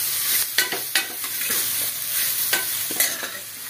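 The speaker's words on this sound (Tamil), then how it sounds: "நல்லா ஃப்ரை பண்ணி விடுங்க." Mixed vegetables for kulambu, including beans, broad beans and carrot, fry in a pan with a constant sizzle, punctuated by several sharp spatula scrapes and knocks as they are stirred.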